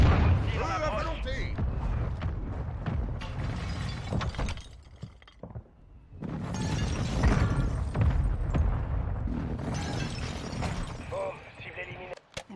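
Bombing strike in Call of Duty: Warzone, a dense barrage of heavy blasts and rumbling booms that fills the scene, briefly dropping away midway before surging again, with game voice callouts layered over the explosions.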